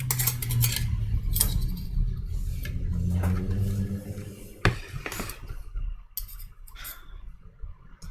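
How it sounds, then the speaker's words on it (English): Metal cutlery clinking and scraping against dishes in scattered, irregular bursts, close by, over a low background rumble with no talk. "If you hear cutlery, that would be me."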